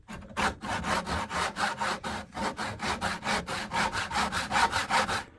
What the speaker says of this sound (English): So here I'm just using my dovetail saw to cut this